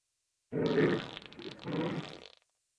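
A fart rings out in two long, loud, rumbling bursts with a short dip between them, alone and close with nothing else heard.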